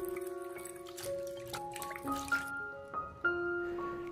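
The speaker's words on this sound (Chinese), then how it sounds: "我们要用清水多清洗两遍，将百合里面的泥沙我们要清洗出来" Lily bulbs being rinsed in clean water, with soft drips and trickles of water mixed with light handling sounds, close and quiet, with no speech.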